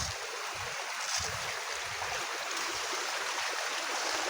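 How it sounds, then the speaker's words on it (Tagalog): A strong flow of cold, clear spring water makes a steady, broadband rushing hiss. The sound is fairly faint and continuous, with no talk over it. "Malakas po ang tubig yan po."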